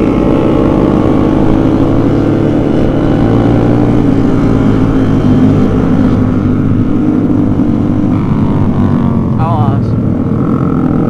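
A large group of motorcycles riding together on a Malaysian road, a dense continuous engine drone with overlapping revs, heard from within the pack amid wind rush and talking.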